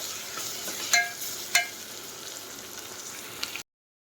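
Onion and tomato cooking in a pan for a chamadumpala curry give a steady soft sizzle and frying hiss, with two brief clinks of a stirring spoon early on, close by and without talk.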